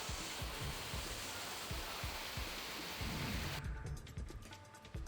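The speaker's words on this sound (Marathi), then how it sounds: "कडकडाटासह पावसानं हजेरी लावली" An unseasonal thunderstorm brings dense, steady rain with deep rolling thunder rumbles underneath. The downpour thins abruptly toward the end.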